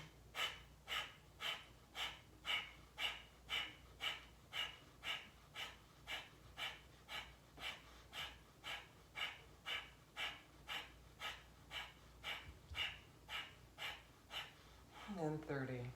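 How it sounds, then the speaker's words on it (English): Long, slow, even breathing during a guided breathwork session, with about thirty soft, regular inhale and exhale pulses heard close up over a low steady hum and no talk. "Again, nice, long, slow inhales and exhales"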